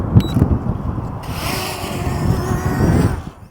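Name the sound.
wind blowing at 10 to 20 mph outdoors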